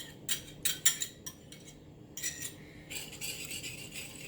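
Sugar and egg yolk are worked together in a bowl, giving a string of close, bright scraping and clinking strokes with short pauses, then a denser stretch of steady stirring near the end.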